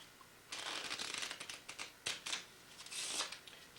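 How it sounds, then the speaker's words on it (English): A deck of playing cards is shuffled in several quick riffling bursts with brief pauses between them, crisp and close, with no talking. "They're going to shuffle the cards and lose that card in the deck."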